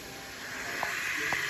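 Minced meat for hara masala Bihari keema sizzles in a hot pan, a steady bright hiss with a couple of sharp pops from the fat.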